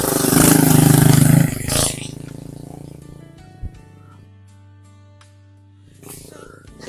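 A motorcycle climbs a mountain road, its engine loud and close at first, then fading quickly and leaving only faint background tones.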